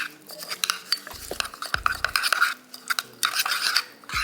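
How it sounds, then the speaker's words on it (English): A spoon stirring a coffee and honey face mask mixture in a small bowl, soft scraping and clinking strokes, close and quiet, with a few gentle taps. "now I'm just gonna stir this all together until it gets to the consistency"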